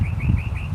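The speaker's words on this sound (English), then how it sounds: "Bird saying, let's go." A bird calls outdoors beside a weightlifting session, a faint, repeated chirping warble heard over low rumbling background noise.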